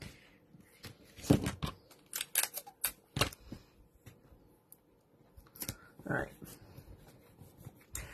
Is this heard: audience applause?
no